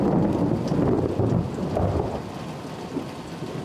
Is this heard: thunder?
yes